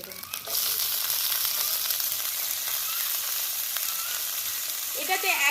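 Vegetables fry in oil with ginger and green chilli paste, a sizzle rising sharply after a short lead-in and staying steady and close, with a brief stirring scrape at the end and no speech.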